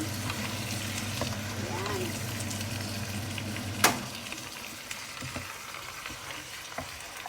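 Bitter gourd (ampalaya) cooking in an uncovered pot, with a steady low sizzle and simmer running throughout and a sharp clank near the middle, no talking.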